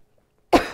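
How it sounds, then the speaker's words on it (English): A single sharp, loud cough bursts out after a moment of silence, close to the listener. "before this coughing fit, so sorry"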